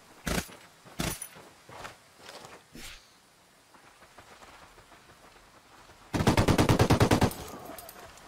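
Gunfire from a firefight in Ghost Recon Wildlands: several separate sharp shots early on, then a fast, loud automatic burst lasting about a second near the end, with no talking.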